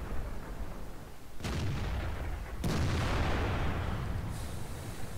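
The M103 heavy tank's auto-loading cannon in World of Tanks fires two heavy booming shots a second or so apart, each a loud blast followed by a long rumbling tail over background battle noise.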